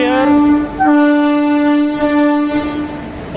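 A passing Indian Railways WAP-4 electric locomotive sounds a loud, sustained horn with a rich tone, holding steady and then shifting slightly, against a rumbling rail background.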